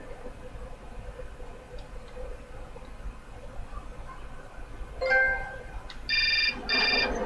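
A telephone rings in the adventure game Syberia, a few electronic ring bursts near the end over a quiet ambient background.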